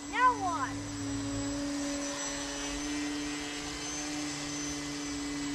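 Prototype XF1 Pogo VTOL aircraft hovering on counter-rotating propellers, a steady high-pitched motor whine holding constant throughout, with a brief rising chirp at the start.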